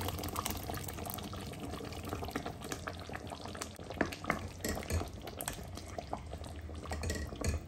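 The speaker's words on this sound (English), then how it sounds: "We are going to add some water to it and then we go." Water pours and sizzles into a hot pot of blended tomatoes, onion and carrots for goat meat light soup, with steady bubbling and occasional clinks of utensils against the pan.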